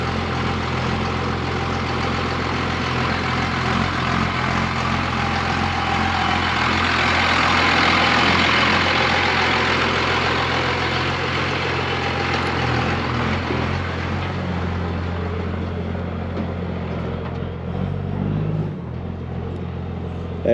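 A truck engine idles steadily nearby, a loud low rumble with a constant hum that holds for the whole stretch and eases slightly near the end.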